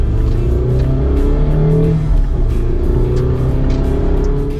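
The engine of a 2017 Mazda MX-5 RF roadster hums steadily from inside the car as it accelerates on the road, its smooth drone rising and falling in pitch through the gears, with no voices.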